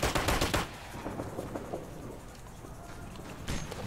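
Automatic rifle and machine-gun fire in the military shooter Operation Flashpoint: Red River, loud rapid bursts at the start and end with scattered shots and a rattling combat din in between.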